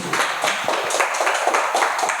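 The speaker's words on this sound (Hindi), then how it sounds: "तो जोरदार ताली बजा दीजिए" A crowd at an anti-drug awareness event applauds together, a dense, sustained wash of many hands clapping that holds steady for a couple of seconds.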